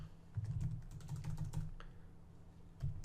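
Keys clatter on a computer keyboard in quick irregular bursts of close, light taps, with short pauses between runs of typing.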